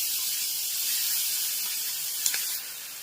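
Steady bright sizzling hiss of chili-ginger paste frying in hot oil, continuous and fairly close, easing slightly toward the end.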